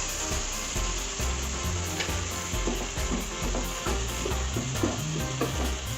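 Tamarind water poured into sautéed vegetables in a pan while making sambar rice, giving a steady loud sizzle and frying hiss with stirring scrapes throughout, close by and without talk.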